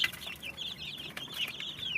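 Egg-laying chickens cluck in a steady run of short, bright calls with a few louder squawks, fairly close, with no voices and a faint background hum.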